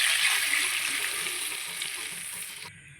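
Ground onion paste sizzles loudly in a hot frying pan, a steady bright hiss that fades a little toward the end.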